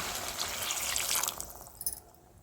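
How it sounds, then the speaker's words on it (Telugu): A glass of water is poured into a pan of spicy chicken gravy curry, a brief close splashing pour that tapers off and ends in a few small drips. "ఇప్పుడు ఇందులోకి 1 గ్లాస్ వాటర్ అనేది పోసుకుందాము."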